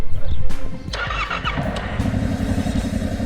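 A motorcycle engine starts up close, first a short churning crank, then a catch that settles into a steady, throbbing idle.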